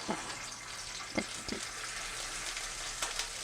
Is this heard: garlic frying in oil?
yes